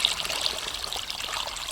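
Bore-well water pours steadily into the furrows of a farm field, a continuous close trickling rush with no break and no voices.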